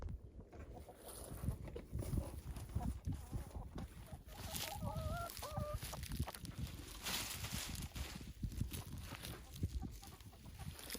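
Chickens clucking in a backyard coop while pecking at broccoli leaves, with scattered soft clucks and a few higher calls over rustling and background noise, fairly close and moderate in level.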